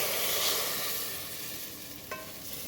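A hot tempering hits moong and masoor dal with a loud, steady sizzle that slowly fades, plus a brief clink near the end.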